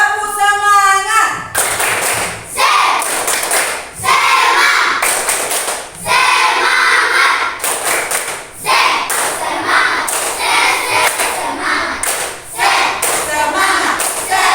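Group of schoolchildren doing a 'spirit clap' ice-breaker in a classroom: loud, close patterned clapping in repeated bursts, with a teacher's voice heard briefly before it starts.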